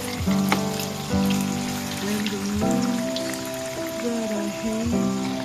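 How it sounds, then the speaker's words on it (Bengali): Lentil fritters (bora) frying in oil until golden brown crackle with a steady, close sizzle like rain on a surface, while a sustained tonal hum runs underneath, with no talking. "দিয়ে গোল্ডেন ব্রাউন করে ভেজে নিতে হবে"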